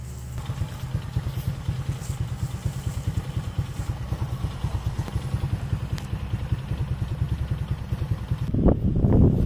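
A motorcycle engine, just tuned up and fitted with a Showa Racing CDI, runs with a rapid, even, close chugging idle, then revs up sharply in the final second.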